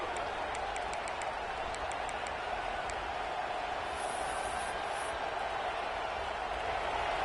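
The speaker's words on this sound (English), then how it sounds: "This crowd bringing the energy and noise early." Crowd noise at a college football game between Alabama and LSU, a steady, dense roar of cheering and chatter held at constant level throughout, with a few faint whistle-like tones on top.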